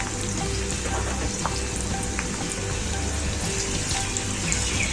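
Cumin and onions fry in a pan for a tori sabzi, a steady, dense, close-up sizzle and crackle that continues without a break.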